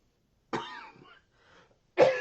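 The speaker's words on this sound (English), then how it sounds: "I didn't cough all night until I started talking" A man in a radio-show studio gives two close, quiet coughs with a short pause between them and no talking around them.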